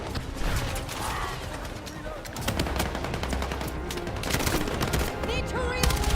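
Heavy gunfire in the video game Battlefield: dense, continuous bursts of automatic weapons and scattered shots, loud and close throughout, with faint voices beneath the barrage.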